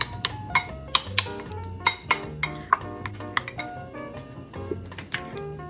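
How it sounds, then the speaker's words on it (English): Meat being stirred and mixed in a marinade in a bowl, with repeated light clinks and taps of a utensil against the dish, close and moderately quiet, over soft background music. "Mix them well until you can feel that the meat is bouncy."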